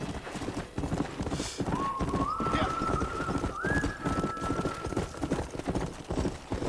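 Steady clip-clop of horse hooves with a rising whinny tone, over a busy, constant background rumble, from the video game Red Dead Redemption.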